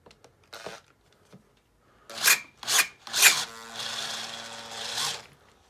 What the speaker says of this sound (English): So I'll just put it on drill mode now